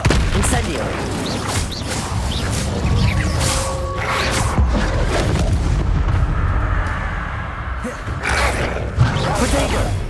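Fiery spell bursts in Hogwarts Legacy combat, a dense roar of crackling blasts and booming impacts that stays loud throughout, with brief tonal whooshes and game voices mixed in.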